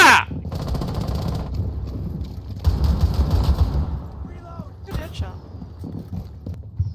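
Rapid gunfire bursts ring out in the Rainbow Six Siege video game after a sharp opening shot, dense and loud, with voices calling out over the shooting.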